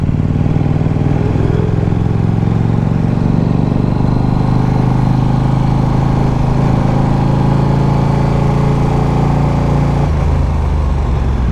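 Motorcycle cruising on an expressway in Japan, its engine droning loud and steady close up with wind rush, the pitch shifting briefly near the end, no talk.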